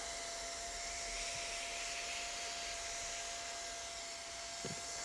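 A hot air welder fuses a small flap of GAF EverGuard PVC roofing membrane at a pig ear inside corner, giving a steady, close, continuous blower hiss with a faint tone throughout and no talking.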